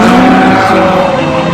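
A Toyota ZN8 GR86 drifts with its engine revving hard and tires skidding, a loud, close, sustained roar with a steady engine tone and rough tire noise throughout.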